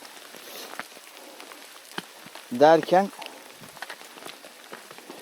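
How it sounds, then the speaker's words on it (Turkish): Rain falls on a hiking trail on the Lycian Way near Karaöz and Adrasan, a soft, steady patter of drops. A voice speaks briefly partway through. "şu an 5. sezonumuzda ilk defa böyle bir yağmura yakalanıyoruz"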